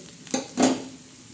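Two quick scraping strokes of a spoon stirring egg bhurji with coriander seeds in a pan, each brief and close, over a soft background sizzle.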